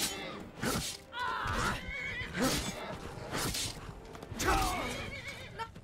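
Horse in the Skyrim game neighing loudly in several repeated whinnies, with a brief clip-clop of hooves and game background sounds.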